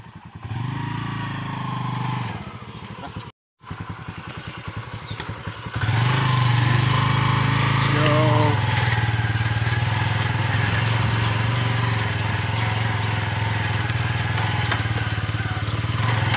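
Motorcycle with a sidecar (kolong) carrying an engine machine, its motor droning steadily and growing louder and rougher after a short gap, continuous and close with no talk.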